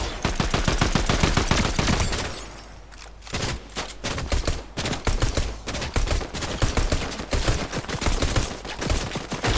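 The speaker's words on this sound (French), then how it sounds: "Qu'est-ce que c'est que ces tirs de nul là que je fais?" Gunfire from a player shooting in Fortnite, loud rapid bursts of automatic fire with dense repeated shots, a brief lull, then more sustained volleys up close.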